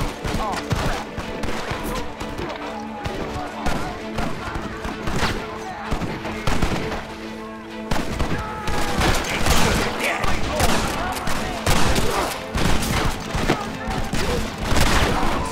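Gunfire in a Red Dead Redemption battle, dense volleys of rifle and pistol shots cracking near and far for the whole stretch, with shouted voices breaking in over the shooting.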